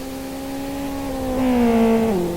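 Race cars moving off on a warm-up lap, a steady engine drone with tonal whine rising and then dropping as the pack pulls away, fairly close and without talk.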